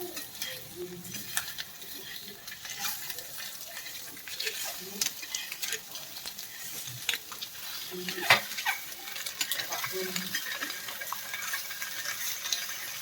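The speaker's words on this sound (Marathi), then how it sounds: "थोडंसं अजून एक बाजूने आपण त्याला छान असं फ्राय करून घ्यायचंय" Egg masala pieces seasoned with turmeric and salt fry in a pan, giving a soft, steady sizzle with scattered stirring clinks and scrapes, close and moderately quiet throughout.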